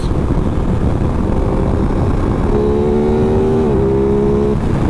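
Aprilia RS 660 sport motorcycle accelerating hard in third gear, its engine note rising in steady harmonic pitch sweeps over loud, constant wind rush recorded from the rider's position.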